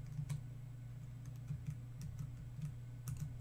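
Letters being typed on an iPhone's on-screen keyboard, a short run of light, evenly spaced taps over a low steady hum.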